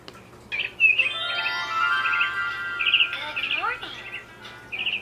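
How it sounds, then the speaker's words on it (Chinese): Bright bird chirps and trills sound in the background of a children's English picture-book sound demonstration. Short repeated tweets come in bursts across the clip, fairly clear against a quiet low hum. "背景也是有鸟叫声"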